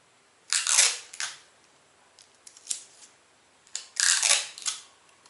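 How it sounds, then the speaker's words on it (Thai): Scotch tape is pulled and pressed onto a paper dress pattern: two loud, crisp ripping bursts of tape unspooling, separated by softer crinkling and tapping at close range. "ก็เอาสกอตเทปนะคะแปะไปได้เลยค่ะ"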